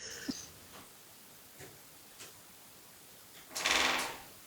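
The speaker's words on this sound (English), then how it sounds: "The door's opened." An interior door swings open wide during a ghost-hunting session, giving a short creaking burst near the end after a few faint ticks and knocks in an otherwise quiet room.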